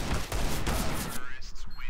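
Rapid gunfire in a video game: a loud, dense burst of shots for about a second, then quieter scattered noise.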